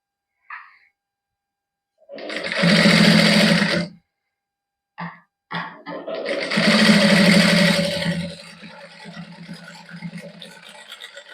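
Domestic sewing machine stitching thick warm fabric for a T-shirt, running in two loud bursts of a couple of seconds each with short pauses and a faint trailing whir.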